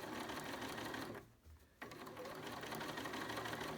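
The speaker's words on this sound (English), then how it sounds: "Stitch right up onto the mask" A Bernina sewing machine stitching bias binding onto a fabric face mask runs in a steady close whir, pauses briefly, then resumes at an even pace.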